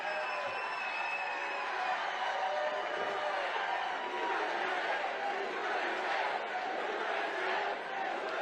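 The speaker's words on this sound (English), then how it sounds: "What a great crowd." A large crowd of supporters at a Donald Trump rally in California roars and cheers without pause. The sound is broad and sustained, with shouts rising out of the din.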